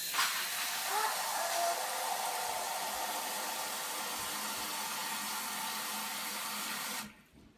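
Tap water pours steadily into a pot being filled for a double batch of kombucha, a continuous broad rushing hiss that runs unbroken for about seven seconds before cutting off abruptly.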